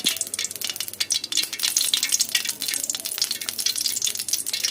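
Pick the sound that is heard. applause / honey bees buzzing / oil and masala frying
oil and masala frying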